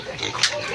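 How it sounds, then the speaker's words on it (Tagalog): A pig grunts briefly in a backyard pig pen, a short close snort heard under a person's talking. "Nagbubuhi ako ng baboy dito."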